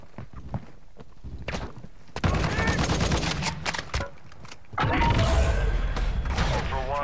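Video game gunfire with armor-piercing rounds: rapid bursts of loud shots and automatic fire, with clattering steps and battlefield noise around them, growing heavier toward the end.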